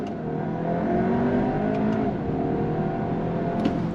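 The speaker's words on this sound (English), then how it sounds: "we're in second gear, slow roll, on throttle" A 2023 VW Arteon with 4Motion all-wheel drive pulls away in second gear under steady throttle, its engine note rising smoothly and loud from inside the cabin, with no talking.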